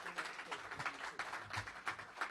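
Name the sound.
audience applause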